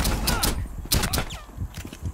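A silenced pistol fires in Rainbow Six Siege: several sharp, muffled shots come in an uneven rhythm over game noise, loud and close.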